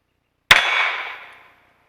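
A single sharp, loud shot from a CZ Shadow 2 Carry pistol firing a 124 grain round, with a bright ringing tail fading over about a second, alone in silence.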